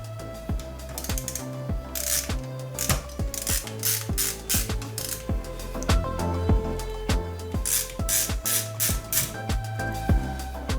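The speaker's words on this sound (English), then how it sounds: "take off the screws that would hold the cooler on" Screws being backed out of a graphics card cooler, with repeated ratcheting clicks of a small screwdriver in quick bursts, close and fairly quiet, no talking.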